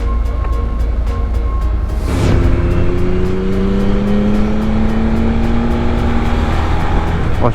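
A sport motorcycle with a centrally mounted under-seat exhaust passes by loudly on a road, its engine note rising then falling away in a smooth pitch sweep over steady wind noise.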